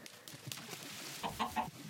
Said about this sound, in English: Is that an egg I heard? Well, thank you, Mr. Chicken.